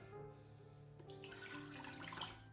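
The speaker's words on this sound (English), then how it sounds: "I'm going to start with a cup of water" A cup of water pours into the pot of a Ninja Foodi multicooker, a steady splashing stream that grows fuller and brighter partway through, close by with no talking.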